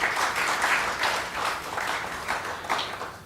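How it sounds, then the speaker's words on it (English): A dense, steady round of applause from an audience at a Gujarat Chamber of Commerce Youth Wing event, sustained throughout with mild swells and no voices on top. "I would like all of us to give him a warm round of applause."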